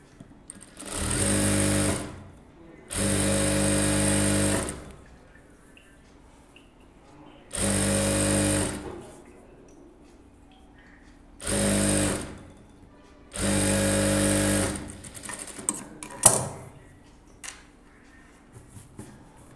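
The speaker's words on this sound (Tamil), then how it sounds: "அதை கனெக்ட் பண்ணி அந்த பட்டியை மடித்து தைச்சிடலாம்." Sewing machine stitching a close-neck blouse, running in five loud, steady bursts of about one to two and a half seconds each with short quiet gaps, followed by a few faint clicks and handling sounds.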